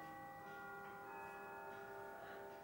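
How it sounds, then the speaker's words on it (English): A clock strikes four o'clock indoors, its sustained bell-like chime tones ringing steadily and fairly faint throughout, with no talking. "Clock striking, I thought I'd miss that."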